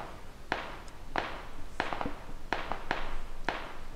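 Video game gunfire: distant, sharp cracks spaced roughly every half second to second, about eight shots in all, over a faint hissy background with no talk.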